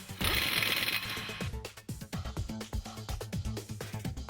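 Lug nuts on a wheel hub being tightened with a ratcheting tool, a burst of whirring followed by a run of quick, uneven mechanical clicks close by, with no speech.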